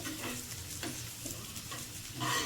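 Food being stirred by hand in a home kitchen, with soft, irregular scraping and faint sizzling from a pan, fairly quiet and close, with no voices.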